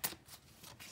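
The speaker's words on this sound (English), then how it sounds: "My cards are going all over the place." Tarot cards shuffle and scatter in a brief, soft burst of papery riffling and slapping, close by and quiet, with no voices.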